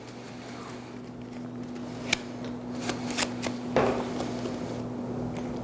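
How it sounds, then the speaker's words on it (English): A regular pack of playing cards is shuffled and handled on stage by a magician and a helper, giving soft riffling and a few sharp snaps and slaps over a quiet room hum. "Check the cards. Shuffle. Mix them. Shuffle. Shuffle."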